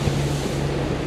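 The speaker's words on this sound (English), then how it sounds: "30 knots of wind now, straight at us." Strong 30-knot headwind and 1.5-metre seas buffet a sailboat, a brief rushing wash of waves and wind noise with a low steady hum beneath, loud and continuous.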